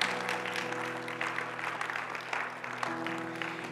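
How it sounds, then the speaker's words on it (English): A church congregation claps in praise, a steady dense wash of hands, with sustained tones from instruments or voices running underneath. "Give a loud clap offering of praise to our Lord God."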